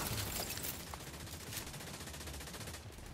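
Dense, continuous video game gunfire, rapid automatic bursts blending into a steady roar from start to end, loud and with no speech.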